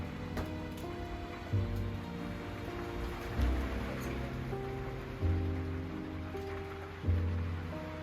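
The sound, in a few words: rain and wind outdoors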